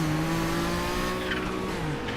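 Race car engine in the iRacing sim at Sebring during a Kamel GT Championship race, its steady loud drone sagging in pitch as revs drop after a missed shift, tire noise mixed in, close and continuous with no talk.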